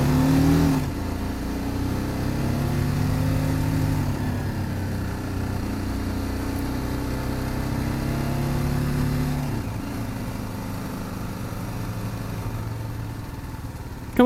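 A 2018 BMW G310GS motorcycle engine drones steadily at mid pitch while riding, rising and falling gently through the gears, close and continuous with no talk.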